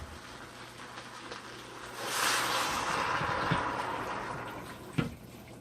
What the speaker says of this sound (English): And then to the beans, I'm going to add water.